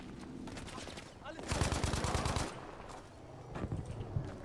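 Battlefield V gameplay gunfire, with bursts of rapid automatic shots and scattered single cracks, the heaviest burst in the middle, mixed with game noise at moderate distance.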